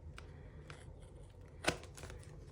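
Quiet snips of left-handed scissors cutting paper, a few soft cuts followed by one sharper, louder snip, then faint rustling.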